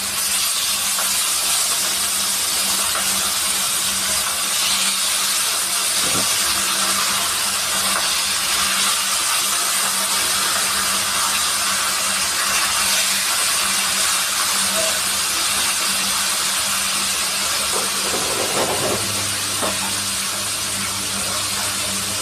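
A stovetop pressure cooker vents a steady, loud hiss of steam that fills the whole stretch, with a brief lower rumble near the end, ahead of the whistle.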